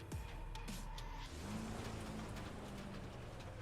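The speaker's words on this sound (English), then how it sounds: "Car just lost control for no reason." A race car in the iRacing sim loses control with engine revs dropping and tyres squealing through a skid, a continuous loud engine drone with shifting pitch and no voices.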